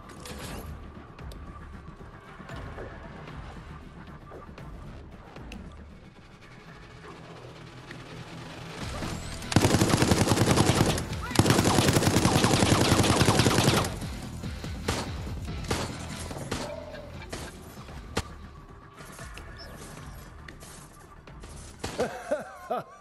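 Gunfire in the survival-horror video game Resident Evil Resistance: a sustained, loud roar of shooting for several seconds in the middle, surrounded by quieter mechanical clanks, creaks and scattered impacts.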